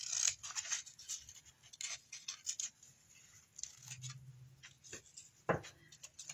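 Scissors snip through paper petals for a lace heart, a string of soft, close, crisp cuts in uneven rhythm, faint and alone in a quiet room.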